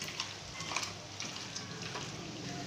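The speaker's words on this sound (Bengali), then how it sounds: "কড়ার মধ্যে গরম মশলা এবং পেঁয়াজ দিয়ে পেঁয়াজটা একটু লাল লাল করে নেড়ে নিচ্ছি।" Onions fry with garam masala in a wok for masala chicken, a soft continuous sizzle broken by faint scraping and stirring sounds. Nobody talks.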